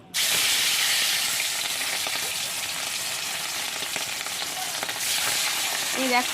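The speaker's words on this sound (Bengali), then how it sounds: "এখন আমি মাছ ভাজছি" Fish rubbed with turmeric and salt frying in a pan, giving a steady, bright sizzle and hiss that runs on continuously, close and fairly loud, with a faint stir near the end.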